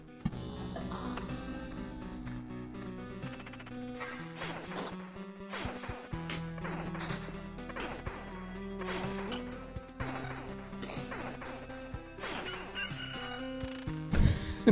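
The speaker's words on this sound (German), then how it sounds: "Jeden Tag kräht der Hahn." A rooster crows within the Loop Hero video game soundtrack, mixed among layered game music and sharp percussive clicks and crashes that run steadily throughout.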